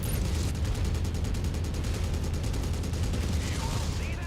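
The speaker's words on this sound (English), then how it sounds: "Incoming missile." Incoming missile fire in MechWarrior 5: Mercenaries, a fast, even volley of launches rattling out over a low rumbling din, followed by a few brief whooshing streaks near the end.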